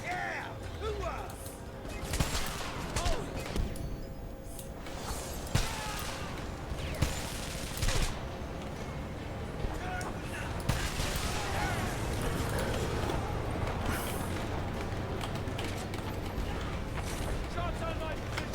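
Game gunfire from the Homefront shooter: sustained, dense bursts of automatic fire with sharp cracks and impacts run continuously over a noisy battle backdrop, and voices shout over the combat.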